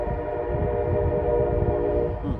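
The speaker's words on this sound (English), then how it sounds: "got a loud train" A loud train passing close by, a steady dense rumble with harmonic horn-like tones running through the whole stretch, heard alone.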